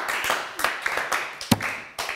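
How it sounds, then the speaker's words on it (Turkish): A few scattered, sparse hand claps from a small studio audience on a Turkish word-game show, isolated slaps spaced irregularly rather than a full ovation, with one sharper clap standing out. "Üzgün alkış ya."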